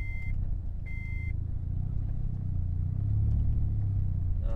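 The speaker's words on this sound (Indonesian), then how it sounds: "Sorry kalau bunyi seat beltnya, karena kan masih di jalan gang-gang." A car's seat belt warning sounds as it drives slowly through narrow alleys on a carbon Bride seat, with two short high beeps near the start over a steady low engine and road rumble.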